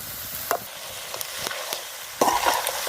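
Meat frying in a pan over medium heat while it is stirred: a steady soft sizzle broken by several scraping clinks of the spoon, close and fairly quiet, with no voices.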